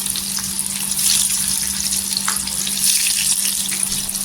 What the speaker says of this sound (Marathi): आपण फ्राय करून घ्यायचं आणि गॅस स्लो करायचं म्हणजे छान असं क्रिस्मी होतील